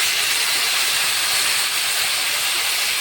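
Fried potatoes sizzle in a pan with ginger, cumin and green chilli paste, giving a steady, close, even hiss that carries on without a break.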